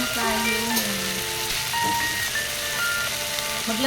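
Tomatoes sauté hard in a hot pan with a steady, close sizzle and crackle, while tonal music plays continuously over the frying.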